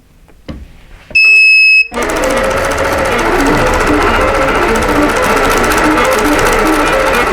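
Computerized quilting sewing machine stitching out a corner design on a fanfare block, preceded by a few clicks and a loud electronic beep, then a continuous fast, loud mechanical whirr of stitching that runs steadily to the end.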